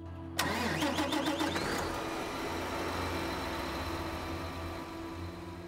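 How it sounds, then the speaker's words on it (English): A tractor engine's mechanical clatter kicks in, then it runs on at an even idle, its low drone continuing unbroken to the end. "He enjoys his tractors, loves hearing this sound."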